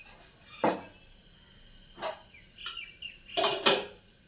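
In a home kitchen, a metal lid goes onto a cooking pot while pointed gourd is being prepared, giving several separate clinks and clatters spread over about four seconds, the last two close together and loudest.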